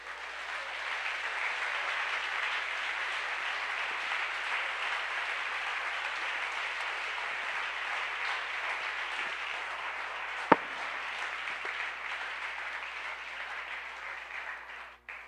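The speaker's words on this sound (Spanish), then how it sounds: "Un aplauso a Jesucristo." A church congregation applauding during a sermon, heard as a dense, even wash of clapping at moderate level that holds for about fifteen seconds with one sharp knock near the end.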